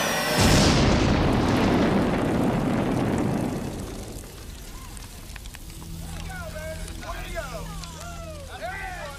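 A huge science-fiction sonic bore weapon fires a thundering blast that roars loudly for several seconds and then fades into a lower rumble, with warbling electronic tones and a faint hum rising afterward.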